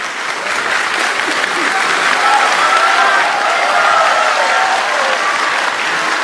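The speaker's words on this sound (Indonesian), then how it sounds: "Silakan berikan tepuk tangan." An audience at an Indonesian presidential and vice-presidential debate applauds, loud sustained clapping from a large crowd that holds steady throughout.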